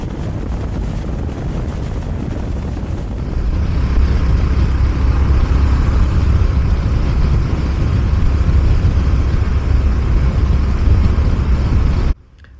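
A Honda GB350S motorcycle cruising on a motorway gives a continuous loud drone mixed with heavy wind roar. The pitch steps up slightly partway through, then the sound cuts off abruptly at the end.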